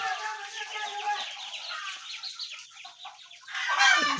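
A crowd of ducklings peeps in a brooder warmed by a 200-watt heat lamp, their high chirps overlapping in a steady close chorus that swells louder near the end.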